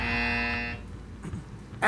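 A loud, steady electronic tone from a quiz show contestant's buzzer sounds for about three quarters of a second and then cuts off, leaving quiet room noise with faint movement.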